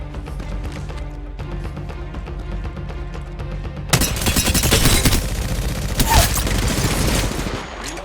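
Gunfire in the battle royale shooter Apex Legends, starting as quieter distant shots over game noise, then turning into loud, close rapid bursts in the second half.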